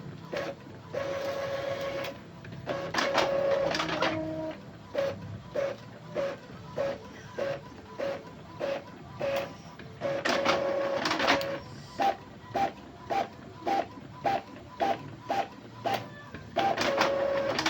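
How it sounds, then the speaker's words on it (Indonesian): Epson L3210 inkjet printer running after a repair: repeated mechanical whirring passes and rhythmic clicking bursts of the carriage and feed, close and clear with no talk. "sepertinya printer sudah normal kembali teman-teman ya"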